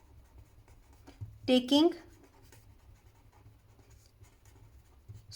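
A pen scratches out a math statement on paper in a short burst of brisk strokes lasting about half a second, close and clear, with someone talking quietly around it.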